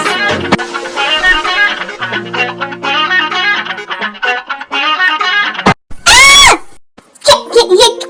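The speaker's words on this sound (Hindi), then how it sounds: "ये कौन चिल्ला रहा है?" A person screams loudly in several strained, wavering bursts over a tense music bed. A sharp, piercing cry comes near the end, followed by more vocal sounds.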